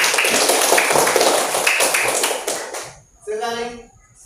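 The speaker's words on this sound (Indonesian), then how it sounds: "Tepuk tangan." Several quick, sharp hand claps ring out from a group of children in a classroom, followed by a brief spoken voice.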